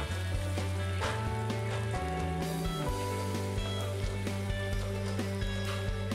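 Garlic and chilli chutney paste frying in a pan over a medium flame while being stirred constantly, giving a steady, fairly loud sizzle under background music throughout.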